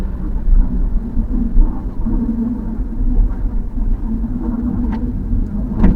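A car drives along Highway 103 between Ngao in Lampang and Rong Kwang in Phrae, a rural road with damaged stretches, giving a steady low engine rumble and road noise heard from inside the cabin.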